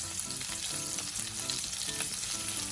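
Peeled, deheaded shrimp split along the back frying in a pan, a dense, continuous close sizzle with crackling spatter and no voices.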